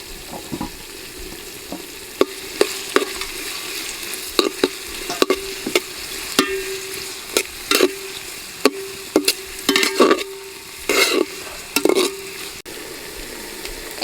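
Onion frying in a pan on the stove as ginger and garlic go in for a Bengali potato curry, with a steady close sizzle broken by repeated sharp scrapes and clacks of stirring, alone without talk.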